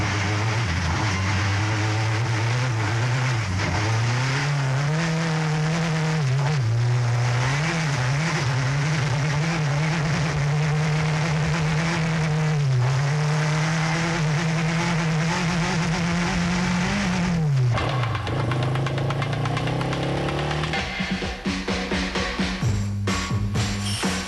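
A Citroën rally car drives a 1997 Rallye de Tunisie stage from Ras El Oued to Djerba, its engine holding a loud, sustained drone that rises and dips with speed before easing off near the end, with wind and road rumble.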